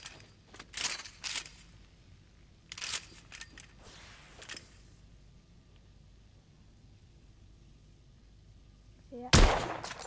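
Several sharp rifle shots from a long-range scoped rifle in a video game, spaced irregularly in bursts early on, then a quiet stretch before one loud final crack near the end.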